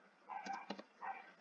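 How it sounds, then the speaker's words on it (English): A pet dog barks in the background, giving a few short, faint yips and barks with small gaps between them, set apart from the room and heard without any speech. "my dog is barking in the background"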